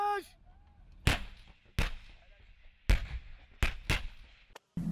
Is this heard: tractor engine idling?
no